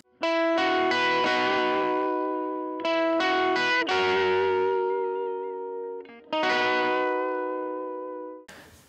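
Dry electric guitar chord part with no effects, strummed in several separate bursts that ring out and fade between strikes, close and fairly loud, alone with no talk.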